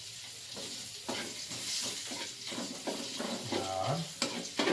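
Garlic frying in oil left over from frying dried fish (tuyo) gives a close, steady sizzle, broken by rhythmic stirring scrapes, with a voice speaking briefly over it.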